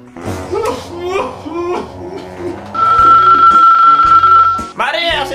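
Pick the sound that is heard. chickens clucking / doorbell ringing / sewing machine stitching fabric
doorbell ringing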